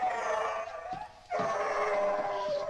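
Dog whining and howling from the 1983 film A Christmas Story, a few drawn-out high whimpers broken by a brief pause, fairly close and heard alone.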